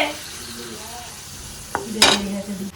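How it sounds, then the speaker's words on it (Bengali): Papad (poppadom) fries in a pan and starts to burn, giving a low hiss that breaks into a couple of quick, loud crackling bursts near the end. "এই যে পাঁপড় ভেজে প্রথম পাঁপড়টা যে ভাজলাম পুড়ে গেছে"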